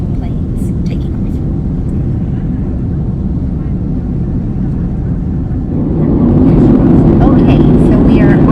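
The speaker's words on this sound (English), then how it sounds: "This is for all you airplane nerds out there who like to watch videos of planes taking off." Airplane taking off: a loud, steady engine roar heard from inside the cabin that swells and grows stronger near the end as the plane powers up.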